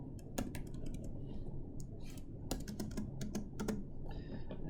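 Keys clatter on a computer keyboard as C++ code is typed, with irregular bursts of close, crisp clicks and short pauses between runs of keystrokes.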